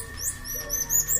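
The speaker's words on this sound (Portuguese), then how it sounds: "Tem um passarinho cantando ali" A small bird sings nearby outdoors in a brief burst of high, quick chirps and whistled notes, with no talking.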